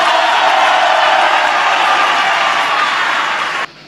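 A church or gathering crowd claps and cheers loudly in a dense, continuous wash of applause that holds steady for a few seconds, then cuts off abruptly, leaving a quieter background.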